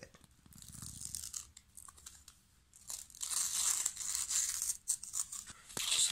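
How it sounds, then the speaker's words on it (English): Transfer backing and heat tape peeled off a freshly printed light-coloured T-shirt, heard as long close tearing and crinkling rips, a quieter start building to sustained loud peeling with brief pauses. "now we just need to remove the backing"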